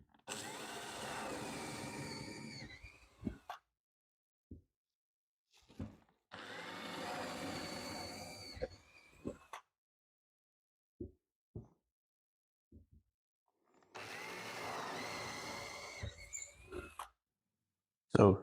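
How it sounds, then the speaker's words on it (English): A power drill drills holes in a laminate countertop for a sink cutout, buzzing in three separate bursts of a few seconds each, with quiet pauses and small clicks and knocks between them. "The next part of this process is drilling your holes."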